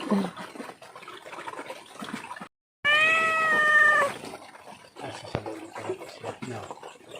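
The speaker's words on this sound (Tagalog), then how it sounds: "May hingi na naman ng pagkain. Yung aming mga kuting." Kittens on a farm in Lagonoy, Camarines Sur meow for food, several thin close calls with a long, loud sustained meow in the middle, set over faint background rustling.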